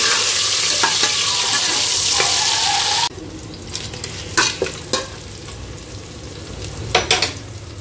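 Mutton and large potato chunks fry in a pan: a loud dense sizzle for a few seconds, then quieter frying under repeated clattering stirs and scrapes, no talking.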